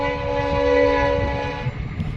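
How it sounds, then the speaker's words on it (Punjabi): A train rumbles close by with a sustained, loud horn blaring over the clatter, the tone fading as the noise of the cars continues. "ਉਹ ਟ੍ਰੇਨ ਆਉਂਦੀ"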